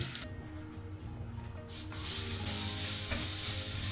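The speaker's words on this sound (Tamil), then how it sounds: "இந்த எண்ணெயிலேயே வெங்காயத்தை போட்டு வதக்க போகிறோம்" Onions sautéing in oil in an iron pan give a steady, close sizzle with stirring scrapes; the frying grows louder and denser midway and continues without talk.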